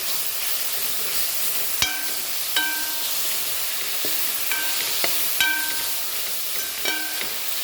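Mushrooms and ginger-garlic paste for biryani are stirred in a hot pan, with a steady frying sizzle and hiss under several sharp clinks of a metal spoon against the pan.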